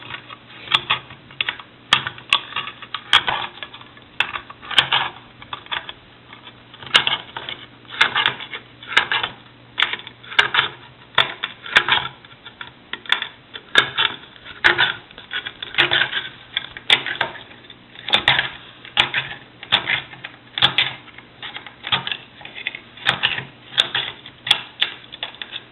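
A P38 can opener works its way around the rim of a tin can, giving a long run of small rhythmic clicking bites that repeat steadily and close, with no talking.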